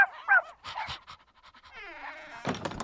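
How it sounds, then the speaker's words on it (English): A puppy pants and whimpers close by in short, uneven bursts, with thumps and a higher whine running through it, while bright children's television sounds play around it. "I think the puppy and his friends want the ball to play with"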